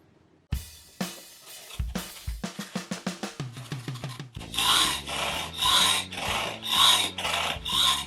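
A regular hacksaw cuts through material in a small workshop for a DIY 5-axis CNC build. Quick rasping strokes start in a brisk rhythm, then turn into slower, longer, louder back-and-forth pulls, close and with no talking.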